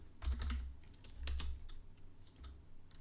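Quiet, close typing of Python code on a computer keyboard, a handful of irregular key clicks and soft thumps spread over a few seconds.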